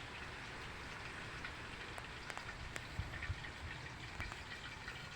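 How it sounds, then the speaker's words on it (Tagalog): Heavy rain pours down in a dense, steady hiss, with occasional louder drips and taps standing out against the constant wash. "Lakas ng ulan oh."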